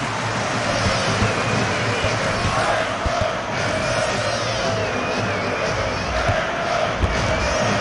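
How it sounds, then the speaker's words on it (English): Steady, loud stadium crowd roar in the FIFA 2002 soccer video game, cheering a goal in a Champions League match with Celtic Glasgow, a dense continuous wash of voices with no clear pauses. "As you can hear, the crowd enjoyed that."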